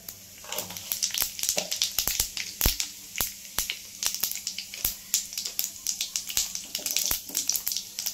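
White cumin seeds hit hot oil in a wok and sizzle with dense, crackling pops and sharp spits, fairly close and continuous.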